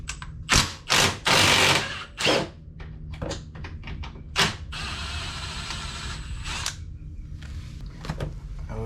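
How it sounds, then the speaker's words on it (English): A wrench works loose the bolts on a Can-Am Outlander ATV winch, giving several sharp metallic clicking bursts close by in the first half, followed by a steadier low rattle and hum. "To get that wrench right up in there."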